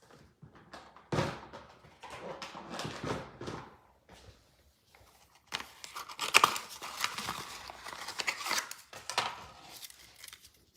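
Scissors snipping ribbon tails while making a handmade card, close crisp cuts and paper rustling in irregular bursts separated by short quiet gaps.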